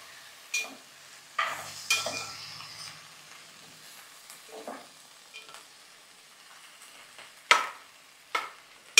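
Vegetables cook in hot oil in a pan while a spoon scrapes and stirs them in sharp, irregular bursts over a faint, low sizzle, with quiet gaps between strokes.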